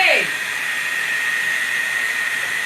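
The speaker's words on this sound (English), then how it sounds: "the dryer is way over here." A hair dryer runs steadily at close range with a constant whine, starting with a brief sweeping rise, while hair is being styled into Bantu knots.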